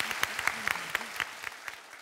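A studio audience at a Korean TV comedy show claps in steady applause, moderately loud and continuous for a couple of seconds, with a voice faintly audible underneath.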